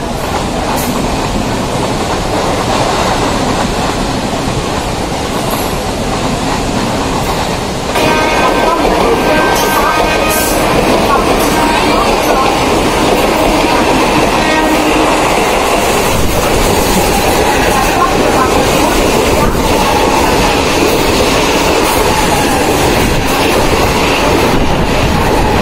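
Mumbai local train running on its rails, a loud, steady rumble with rhythmic wheel clatter throughout, a voice speaking over it partway through.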